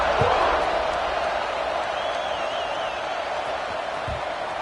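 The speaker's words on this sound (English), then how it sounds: "this crowd is feeling themselves after that last drive" Simulated stadium crowd in a College Football 26 game, Duke at Oregon, a steady broad roar of cheering that holds throughout, with a faint whistle-like tone drifting above it.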